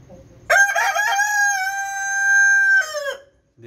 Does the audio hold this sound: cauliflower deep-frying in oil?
no